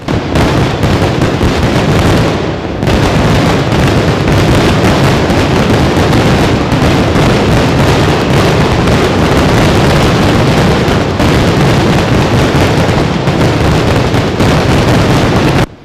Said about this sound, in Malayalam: ദിഗന്ധങ്ങൾ ഭേദിക്കുന്ന ശബ്ദത്തോടെയുള്ള കുഴിമിന്നലുകളുടെ കൂട്ടപ്പൊരിച്ചിലാണ് സമാപന വെടിക്കെട്ടിൽ അരങ്ങേറിയത്